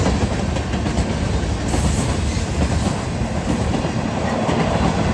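A long freight train with distributed power units rolls past at Weatherford, Texas, a loud continuous rumble of wheels and rattling cars close by with no voices.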